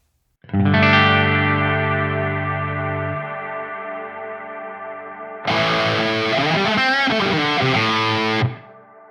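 A distorted electric guitar chord through a Neural DSP Nano Cortex effects modeler rings out with a long, swelling reverb tail, then a second heavily effected phrase sustains and fades gradually.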